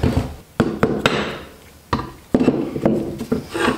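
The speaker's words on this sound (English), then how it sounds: "tap them in with the largest socket you have that fits the outer perimeter" Sharp, close metallic taps ring out as a socket drives a seal into a Honda GC160 small engine during a rebuild, several uneven knocks in quick succession with brief pauses between.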